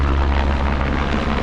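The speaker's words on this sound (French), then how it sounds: "Toute la journée, il y a des dizaines d'hélicoptères qui font des allers-retours pour amener à boire, à manger." A supply helicopter lifts off at Marla on Réunion with a loud, close, steady rotor and engine roar that fills the whole moment without a break.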